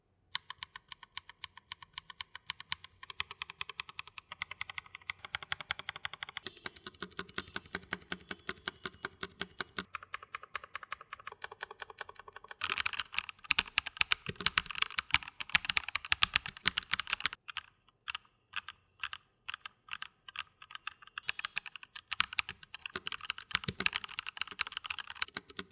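An upgraded Evofox Ronin mechanical keyboard is typed on close up, with rapid, steady keystroke clatter throughout that grows louder and denser in the second half, and no voices.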